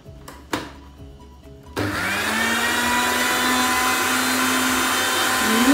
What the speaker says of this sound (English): So this is a food processor.